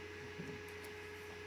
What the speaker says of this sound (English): sorry about the fan noise in the background